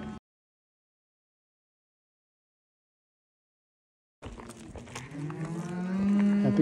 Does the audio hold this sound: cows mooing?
yes